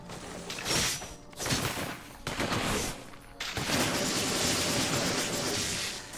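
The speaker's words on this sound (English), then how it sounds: "I have a machine gun" Machine gun fire in the video game inFAMOUS 2 rattles in rapid, dense bursts, loud and close, with short breaks between volleys before one long sustained stretch.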